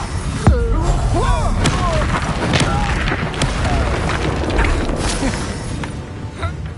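Confringo blast from the Hogwarts Legacy game, a loud booming crackle over a dense, busy battle mix of rumbles and magical effects, with brief voices in the fray.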